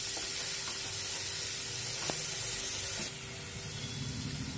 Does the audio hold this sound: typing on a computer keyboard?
no